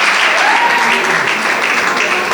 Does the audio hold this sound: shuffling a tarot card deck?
no